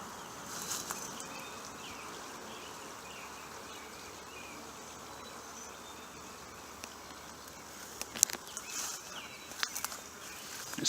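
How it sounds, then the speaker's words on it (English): Faint, steady buzzing of many bees on a flowering shrub in a springtime food forest fills the background, with a few brief rustles and clicks near the end. "It's loaded full of bees, as you can see."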